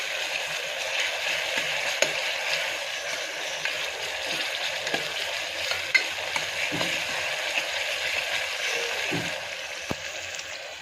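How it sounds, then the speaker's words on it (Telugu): Taro pieces frying in oil until golden brown give off a continuous, even sizzle, with a few soft stirring taps here and there. "గోల్డెన్ బ్రౌన్ వచ్చేంత వరకు ఫ్రై చేసుకుంటే సరిపోతుంది ఇలా బాగా వేయించుకోండి"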